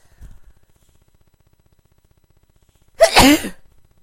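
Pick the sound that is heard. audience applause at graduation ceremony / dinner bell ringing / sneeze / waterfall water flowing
sneeze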